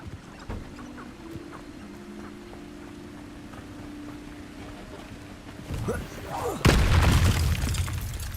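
Spell explosion from the Bombarda charm in Hogwarts Legacy, a sudden loud broadband blast near the end that rings out after a stretch of quieter game ambience and a low steady hum.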